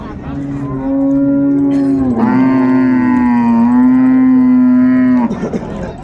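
A dairy cow at the Raniganj cattle market in Dinajpur lets out a loud, drawn-out moo lasting several seconds, rising midway and then trailing off, close by and with no talk over it.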